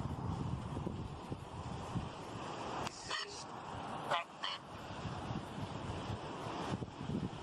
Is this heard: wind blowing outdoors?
yes